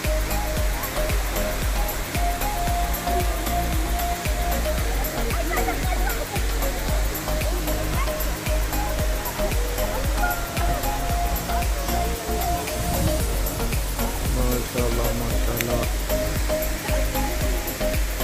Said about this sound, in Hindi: ये सलाला में जबल के साइड पे है ये वाला झरना